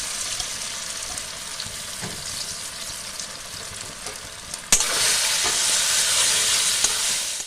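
A paste of banana flower and lentils with nigella seeds fries in oil in a wok. A steady close sizzle runs for several seconds, then turns abruptly louder and harsher and holds that level until the end.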